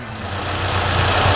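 A petrol car engine idling with a fuel pressure gauge connected, a steady, dense low rumble that holds constant and slightly swells over a brief moment, close and loud with no talk.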